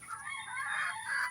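Pet chickens being bathed cluck and crow in a steady, fairly close stream of bird calls, with no talk over them.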